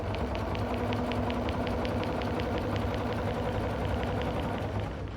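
A sewing machine stitches rows together on a heavy hand-embroidered quilt, giving a steady, fast mechanical whirr with regular needle clicks that runs continuously at close range with no speech.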